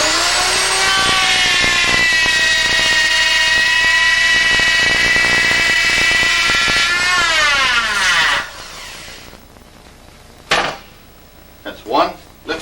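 Edge jointer cutting into a board, a steady loud machine whine with clatter running for about eight seconds, then winding down into quiet with a few scattered knocks.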